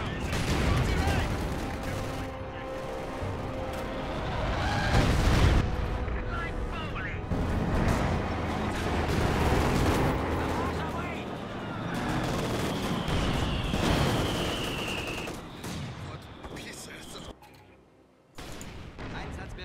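Gunfire and artillery blasts from a Company of Heroes 2 battle roll on continuously, dense and loud, with bursts layered over one another and game voices talking throughout.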